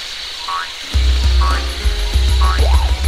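Frog croaks from the video game Sonic Adventure DX, a few short chirpy calls repeating roughly once a second over steady game music and a low rumble, with a rising whoop near the end.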